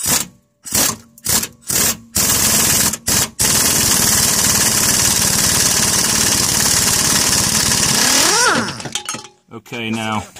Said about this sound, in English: use impact wrench on the nut and see if we can break it free